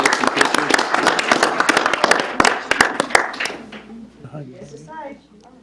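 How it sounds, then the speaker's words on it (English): Applause for coaches and young women cheerleaders at a city council meeting, with dense sharp clapping for about three seconds that thins out and fades while voices carry on underneath. "Let's give these coaches and young women one more applause here."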